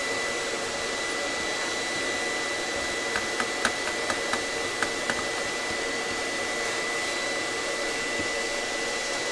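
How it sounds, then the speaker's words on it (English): A vacuum cleaner runs steadily with a loud, even broadband whine while dirt is cleaned off a machine during appliance repairs. A few faint clicks and taps come through in the middle, and no one talks. "I have my trusty vacuum here. I'm gonna turn it on and kind of clean this up a little bit."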